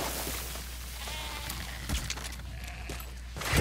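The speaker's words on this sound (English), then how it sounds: "Yes, goat, you belong to me now." A goat bleats in Metal Gear Solid V: The Phantom Pain. A few wavering bleats rise over a steady low game-ambience hum, fairly close and moderately loud.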